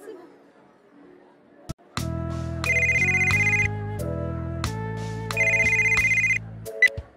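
Mobile phone ringtone for an incoming call in a Japanese audio drama, a melodic electronic tune ringing in two loud repeated phrases after a couple of sharp clicks.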